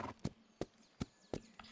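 A horse walks inside a house in a video game, its hooves striking in a steady clip-clop of about six soft, evenly spaced beats at moderate volume with no talk.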